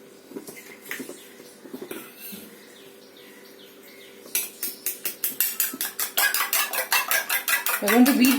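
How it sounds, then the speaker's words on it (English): An egg is beaten in a bowl with cutlery, making a quick, steady run of close clinking strokes that grows louder after a few quieter knocks, with faint bird calls in the background. "first we are going to beat the egg"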